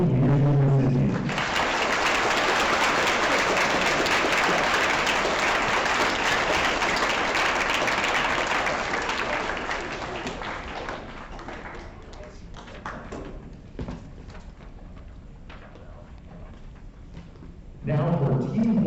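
Sustained audience applause fills a school awards ceremony, loud and dense for about ten seconds, then thinning to scattered claps before a voice returns at the end.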